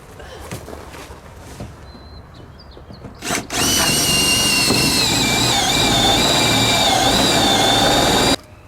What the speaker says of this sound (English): I broke down and drilled a hole in the firewall